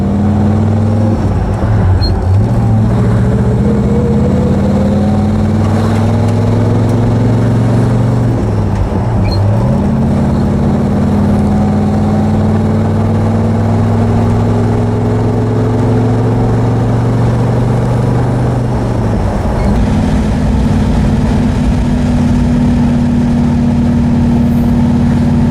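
A 1979 Pontiac Firebird Trans Am convertible's V8 drones loudly from inside the car on a road test drive after repairs for running and cooling problems, its pitch climbing and dropping through several gear changes.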